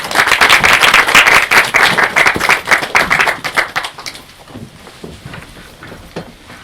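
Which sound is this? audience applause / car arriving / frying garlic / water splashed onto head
audience applause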